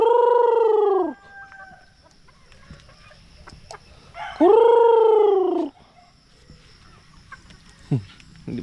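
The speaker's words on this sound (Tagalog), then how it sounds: "Mga inahin, no? Yung mga hilite sa inahin." Farm hens and roosters: two long, loud crows from a nearby rooster, spaced several seconds apart, with scattered faint clucks and pecking noises in between.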